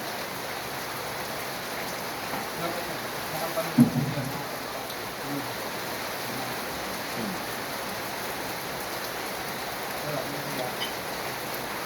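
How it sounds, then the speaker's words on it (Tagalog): Rain falls steadily outdoors in Bicol, a continuous soft hiss of drops on surfaces with one brief louder knock partway through and no voices. "Magandang ulan yan."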